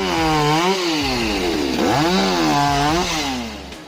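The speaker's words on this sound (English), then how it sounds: "With the MS-390 saw and an 18-inch bar, it may not be the latest model, but it still cuts through everything from pallets to tree branches with ease" An MS-390 chainsaw with an 18-inch bar cuts wood at a firewood processing bench, loud and close, its engine pitch sagging under load and rising again as it bites through.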